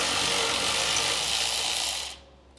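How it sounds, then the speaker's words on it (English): A ratchet wrench removes a 10 mm ground bolt from the frame rail of a 2023 Ford F-150. It makes a fast, continuous, close clicking rattle for about two seconds, then stops abruptly. "we're gonna find a ground attached with a 10 millimeter bolt. So we'll go ahead, get this removed."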